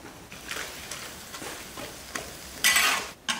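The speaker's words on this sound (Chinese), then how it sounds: "现在把西瓜倒进， 肥条子也放进来" Watermelon chunks and strips of pork fat tip into a hot pot, giving a brief series of stirring scrapes and soft clatters, then a sharp, loud burst of sizzling near the end.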